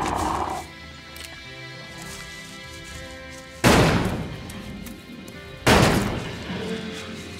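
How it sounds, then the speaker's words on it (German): Two sharp, loud gunshots in the video game Elex II ring out a couple of seconds apart, each with a booming tail, over a steady game soundtrack. "Zwei Schuss, Alter."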